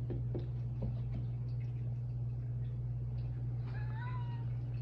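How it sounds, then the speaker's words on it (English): A pet cat meows several times near the end, over a steady low hum and some faint clicks and rustles. "he has a cat named Powder"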